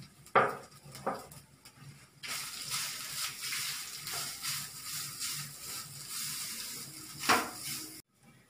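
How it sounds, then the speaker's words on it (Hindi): Grated coconut fries in ghee in a pan over a medium flame, a soft steady sizzle broken by a few sharper scrapes and stirring clatters, with no voices. "और ये नारियल जो हमने ग्रेट करके रखा था उसको इसमें फ्राई करेंगे।"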